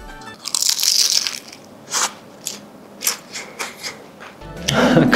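Close, loud crunching as someone bites into a crispy deep-fried spring roll, a burst of crackling followed by several separate crunchy chews with no talking.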